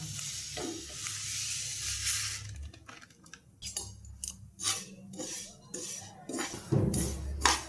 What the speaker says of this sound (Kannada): ಈಗ ನೋಡ್ರಿ ಚಟಪಟ ಚಟಪಟ ಅನ್ನಕ್ಕಂತವು ಸೌಂಡ್ ಕೇಳ್ತಿರ್ಬೋದು ಅಂತ ಅನ್ಕೊತೀನಿ ಸೊ ಈಗ ಪರ್ಫೆಕ್ಟಾಗಿ ಹುರಿದವು ಅಂತ ಅರ್ಥ